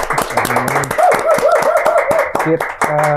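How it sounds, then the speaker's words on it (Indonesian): Clapping at a youth talk event in Bogor, Indonesia, with scattered hand claps mixed among loud voices, laughter and talk throughout. "tepuk tangan"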